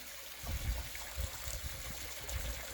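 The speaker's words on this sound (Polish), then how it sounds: "Dolewam troszkę wody, ponieważ z grubsza poodkurzałem przy brzegach." Water is poured into a garden fish pond, a soft continuous trickle and splash at close range with low gurgling bursts, quiet and steady with no talking.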